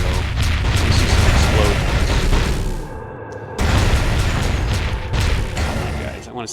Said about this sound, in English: I want to see some explode